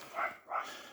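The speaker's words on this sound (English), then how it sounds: "and that's my dog barking." A pet dog barks indoors, two short, fairly loud barks close together with a brief gap between them, heard alone with no one talking.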